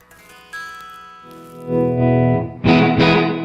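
Electric guitar through a clean Fender Super Reverb tube amp, single notes followed by fuller strummed chords that ring out, with a slight reverb tail.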